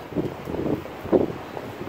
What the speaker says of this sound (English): It's a little bit windy today because of the 42nd floor